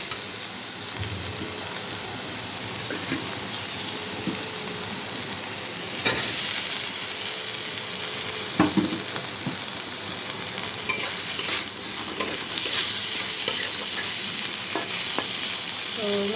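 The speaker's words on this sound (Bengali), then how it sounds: "আমি আর জল দিব না, আলুটা এটার মধ্যে কষিয়ে নেব।" Potatoes sautéed with spices and salt in a pan with no added water, a steady close sizzle broken by repeated scraping stirs and a few sharper clanks of the spatula.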